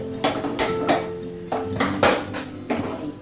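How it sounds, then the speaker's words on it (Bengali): A metal wok (kadai) set down on a home stove while cooking Bengali dal, giving several sharp clanks and knocks of metal on metal, spread out and close by, with no talking. "কড়া বসালাম"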